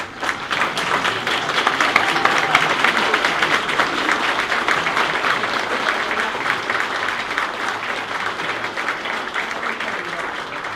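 Sustained applause from an audience honoring the front row at an annual sports wall of fame ceremony, a dense steady wash of many hands clapping close by for several seconds.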